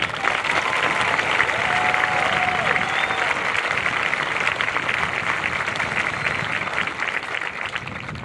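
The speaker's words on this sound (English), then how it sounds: "The class of 2022 deserves one more applause for a job well done." A graduation crowd at Stephen Decatur High School's 2022 ceremony gives the class of 2022 loud, sustained applause, a thick, steady roar of clapping with faint voices.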